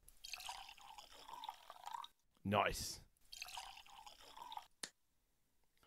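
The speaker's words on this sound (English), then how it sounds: "Ooh, that's a hefty pour" Old Overholt bottled-in-bond rye whiskey is poured into a glass in one short, splashing gush that sits between stretches of close conversation.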